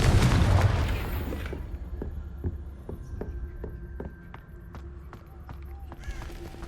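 A Confringo blasting spell goes off in Hogwarts Legacy, a loud booming burst up front that fades into a string of sharp crackling pops and impacts under game music.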